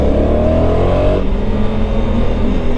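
Honda Africa Twin 1100 twin-cylinder motorcycle, 2022 DCT version, accelerating with a steady loud engine drone whose pitch climbs then drops at a gear change before rising again, heard close from the rider's position.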